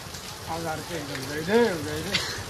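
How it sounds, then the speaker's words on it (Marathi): Soft, steady rain patter sits beneath people talking nearby, with the voices rising and falling over the constant hiss. "पाऊस पडतो म्हणून थांबलोय"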